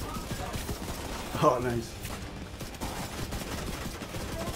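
Gunfire in The Division 2, rapid bursts of shots rattling steadily under game noise, with a player voice briefly talking over it.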